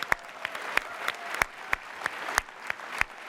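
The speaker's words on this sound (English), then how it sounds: "I'd like to give a round of applause to the developers that have worked so hard to make PS4 awesome." Audience applause for PS4 developers at the PlayStation Experience 2015 conference, sparse scattered claps from a large hall, with distinct individual hand claps standing out at irregular intervals.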